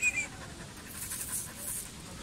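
A dog pants quickly and steadily in a park, the breathy rhythm faint and continuous with light outdoor background noise.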